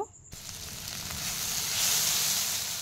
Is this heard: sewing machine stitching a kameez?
no